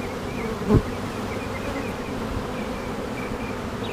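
Honey bees hum from an open hive in a colony getting ready to swarm, a steady close buzz with a brief louder pass of a bee near the start.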